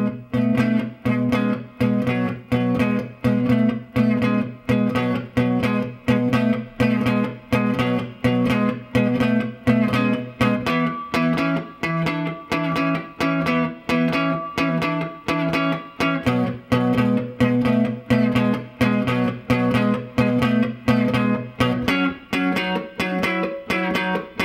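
An electric guitar with a distorted tone chugs a steady 12-bar blues shuffle rhythm with a slow change, repeating chord pattern shifting to the four chord and back, loud and continuous without talk.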